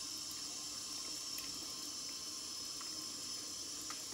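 Running water from a tap rinses cheap shaving soap lather off a straight razor shave, a faint, steady hiss of flowing water with no voices.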